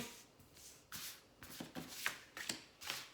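Oracle cards being shuffled for a five-card draw, a quick series of soft riffling swishes and taps in an uneven rhythm, close and quiet with no talk.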